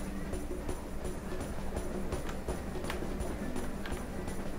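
Rhythmic hoofbeats clip-clop steadily in a busy Team Fortress 2 game soundscape, with dense background noise and occasional sharp clicks throughout.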